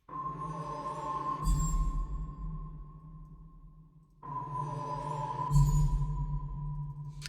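A pitched musical chime marks a soul collect in a UE4 and FMOD video game demo, sounding as two separate tonal swells, each with a steady humming drone underneath and a brighter shimmer on top, clean and moderately quiet.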